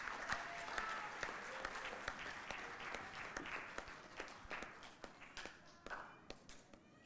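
Audience applause at an evening event at the Hilton Barbados, welcoming a singer to the stage: sustained clapping from a crowd that thins into scattered individual claps toward the end.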